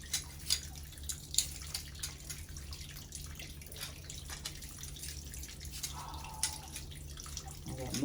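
Water trickles and drips from an opened pipe while a New York City water meter is installed, with a faint steady patter and scattered small splashes close by, no talking.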